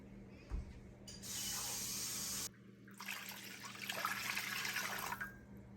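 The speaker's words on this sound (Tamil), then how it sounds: "ஒரு 2 கிளாஸ் தண்ணி இதில் ஊற்றுறேன்." Water pours into a pot in two short bursts, a steady splashing stream for about a second and a half, a brief pause, then a longer, louder gush, close and clear with no talking.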